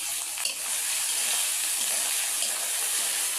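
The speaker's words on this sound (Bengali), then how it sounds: "আমি এখন এই ছোলার ডালটা কষাই নিচ্ছি" Split chickpeas (chana dal) sizzle and crackle steadily in a hot pan as they are sautéed with turmeric, a dense continuous frying hiss with a faint stir or scrape near the half-second mark and no talking.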